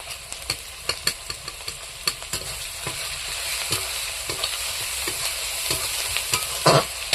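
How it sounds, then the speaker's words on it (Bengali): Onions already fried in oil sizzle steadily in a pan as bay leaf is added for tempering, with a spatula scraping and stirring in irregular clicks and taps throughout. "পেঁয়াজগুলো ভালো করে ভেজে নিয়েছি। ওর মধ্যে দিয়ে দেবো তেজপাতা, ওই তেলে ফোড়ন"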